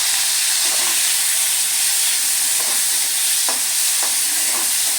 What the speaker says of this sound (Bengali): তেলের মধ্যে দিয়ে দিলাম টমেটোগুলো। টমেটোগুলো ভালো করে নেড়ে চেড়ে ভেজে নেব।